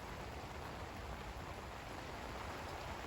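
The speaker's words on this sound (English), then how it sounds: "just waiting for the rain to ease off" Rain falls steadily at a garden koi pond under rebuild, a soft, even hiss that carries on unbroken with no voices.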